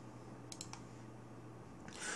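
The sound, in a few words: computer mouse clicking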